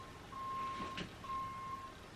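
Reversing beeps from a lorry outside, two sustained tones heard faintly from a distance over steady room noise, with a brief soft knock between them.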